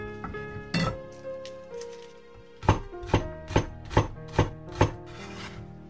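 A kitchen knife chopping flattened garlic cloves into mince on a cutting board, a few scattered strikes followed by a steady run of six crisp, evenly spaced chops, close and clear.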